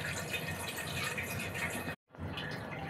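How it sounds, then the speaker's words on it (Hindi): Water pours steadily into a pressure cooker holding cleaned goat trotters, a continuous splashing fill that stops abruptly for a moment and then resumes. "इसमें हम ऐड करेंगे पानी।"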